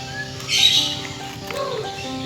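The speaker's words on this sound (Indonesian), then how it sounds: "Ada suara-suara burung juga, backsound gratisan" Birds chirp and tweet briefly in the background, a few short calls over a steady ambient hum.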